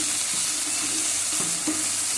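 Okra (ladies finger) sautéing in oil in a pan, a constant close sizzle with a few soft scraping stirs, no talking.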